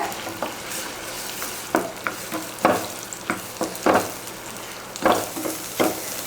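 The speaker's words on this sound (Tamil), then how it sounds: "எண்ணெய் காஞ்சதுமே நம்ம முட்டையை ஊற்றிடலாம். ஊற்றிட்டு அப்படியே விட்டுறாமல் கலந்து விடுங்க." Eggs poured into hot oil for a garlic egg stir-fry sizzle steadily while a spatula scrapes and stirs the pan in irregular, distinct strokes, close and moderately loud, with no talking.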